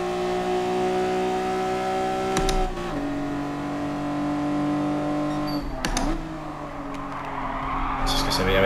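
A race car in Gran Turismo Sport on PS5 drones with a steady engine tone that drops sharply twice as it brakes hard into corners, with tire noise and a revving rise near the end.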